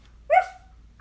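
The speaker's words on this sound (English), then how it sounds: "In the Disney movie, Little Brother is the name of her helpful puppy" A puppy in the Disney film Mulan gives one short, sharp bark or yip, close and clear against near silence.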